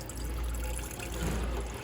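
Water drains from the cold side of a Bio quantum unit, a steady faint trickling and splashing flow with no pauses and no voices.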